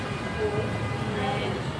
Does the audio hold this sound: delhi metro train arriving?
yes